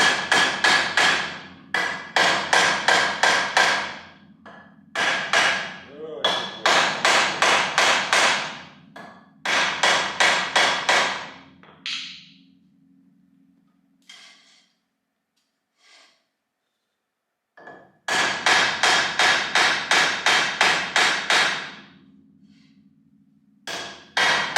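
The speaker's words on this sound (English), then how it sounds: "Give it a little tappy." A hammer tapping on the wheel hub of a 1959 Studebaker Lark to free it, rapid close metallic blows in bursts of eight to ten strikes, separated by pauses and a few isolated knocks.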